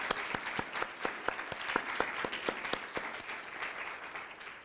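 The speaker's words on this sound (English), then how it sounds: "So I want a round of applause to my good friend, Ruth." Audience applause at a Boston College School of Social Work talk, a steady round of many hands clapping from a moderately sized crowd, sustained throughout without speech.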